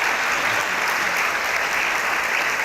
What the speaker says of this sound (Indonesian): Tepuk tangan nih